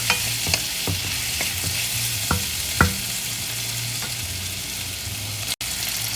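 Vegetables cooking with spices in a pan for tiffin sambar, a steady close sizzle with a few sharp stirring clicks and taps, no talking.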